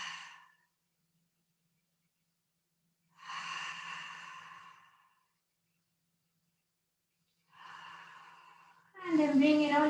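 Slow, audible exhalations during a prenatal yoga face massage, three long breathy sighs separated by silence, with a voice starting at the end.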